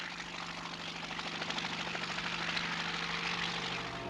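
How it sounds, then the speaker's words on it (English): A scout helicopter flying over the Falkland Islands, its rotor and engine drone steady and fairly loud throughout, close by with a fine rhythmic beat and no voices. "hitch a lift in a scout helicopter, an ideal way to spy out the lie of the land"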